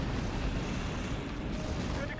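Gunfire and battle noise from the real-time strategy video game Halo Wars, set on a Flood-infested planet, comes as a continuous loud, rumbling wash of shots and booms with no clear gaps, and a voice mixed in.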